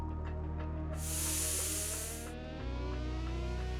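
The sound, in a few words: pressure cooker whistling and hissing steam while cooking dal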